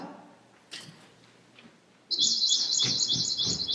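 A bird chirps in a rapid, bright twittering run that starts abruptly and continues close and loud, with a few soft knocks and thumps before it.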